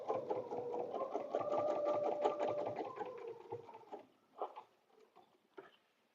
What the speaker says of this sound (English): And then I'm going to stitch my second antenna.